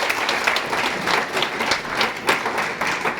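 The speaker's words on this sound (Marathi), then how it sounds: "या सर्व ग्रेट व्यक्तींसाठी जोरदार टाळ्या झाल्या पाहिजे" Audience at a welcome event in Gangakhed town breaks into loud, sustained applause, dense clapping that rolls on for several seconds without a break.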